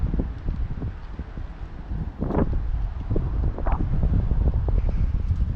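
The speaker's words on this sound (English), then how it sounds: "Ooh, that's pretty stiff wind, my friends." Stiff gusting wind on a Halloween night walk in Maine, a steady broad roar buffeting the microphone with sharper gusts and rustling bursts, continuous and close with no talking.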